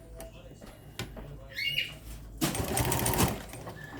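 A sewing machine runs through fabric in a steady burst of stitching after a pause, with a person talking quietly before it starts.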